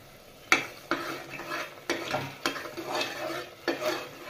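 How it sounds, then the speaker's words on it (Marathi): Ground masala cooking in oil in a pan for chicken curry, with several sharp stirring scrapes of a spoon against the pan over a low steady sizzle, close and moderately quiet. "आता आपला मसाला छान तेल सुटतपर्यंत शिजवून घेऊ"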